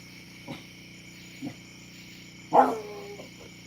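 A dog barks once sharply at a distance after a couple of faint muffled yips, while crickets chirp steadily in the quiet background.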